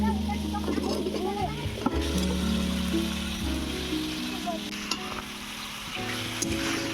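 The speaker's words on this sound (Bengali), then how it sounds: "আলু আর ওলকপিটা আমি কষিয়ে নেবো এবারে" Potatoes and kohlrabi fry in a spice paste of coriander powder and salt in a pan, a close, steady sizzle with stirring scrapes and clinks, heard with a voice talking over it.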